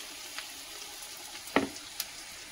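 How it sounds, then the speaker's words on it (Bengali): Spices for ghugni (cumin powder, turmeric, Kashmiri chili powder) sizzle in a pan with chopped tomato. A low, even frying hiss is punctuated by a couple of sharp close clinks of a spoon against the pan. "মশলাটা ভালোভাবে কষিয়ে নেব।"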